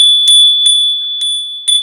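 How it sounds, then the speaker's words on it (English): A small bell rung for a purification ritual: four or five bright, clear strikes at uneven intervals, each leaving a long, pure ringing tone, close and loud with nothing else heard. "it seems like I'm taking a lot of time with the bell"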